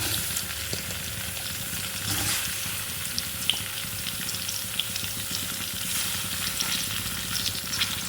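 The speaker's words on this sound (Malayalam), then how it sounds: "ഒന്ന് ഫ്രൈ ചെയ്തെടുക്കാം നമുക്ക്" Ivy gourd (kovakka) pieces fry in hot oil in a pan, giving a steady, even sizzle with soft crackle that runs the whole time, close up, with no talking.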